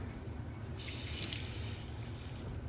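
Water running from a kitchen tap, a soft steady flow with a brighter splashing burst in the middle as it fills, heard close and alone without talking.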